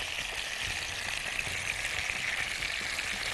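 Chicken and corn brushed with barbecue sauce sizzle together on a hot grill pan, giving a steady, close, even hiss throughout.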